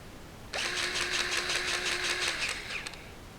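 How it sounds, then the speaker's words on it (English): A Lincoln PowerLuber 20V battery-powered grease gun runs on its low setting, a sudden motor whir starting abruptly with a rapid pulsing pump rhythm for about two seconds before cutting off, close and alone. "We're going to first deliver grease in the low setting, and then we're going to go to the high setting."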